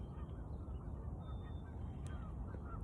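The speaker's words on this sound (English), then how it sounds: "I don't know if you can hear the birds in the background" Birds calling faintly in the background outdoors, their honking cries mostly buried under a steady wash of low ambient noise.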